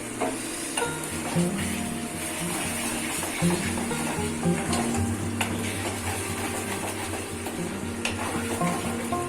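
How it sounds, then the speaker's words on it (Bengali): Tomato masala being sautéed in a pan for masoori chicken gives a steady close sizzle, with spoon scrapes and light clinks against the pan throughout. "ঢাকা খোলার পর আমি আরও 3-4 মিনিট মশলাটাকে কষিয়ে নিয়েছি।"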